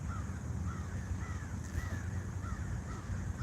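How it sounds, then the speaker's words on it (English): Crow cawing outdoors, a series of repeated harsh caws at a moderate distance over steady low background rumble and ambient noise, with no talk. "Hear that crow?"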